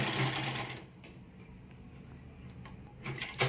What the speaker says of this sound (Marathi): त्या गाऊनला टिपा मारायचं चालू आहे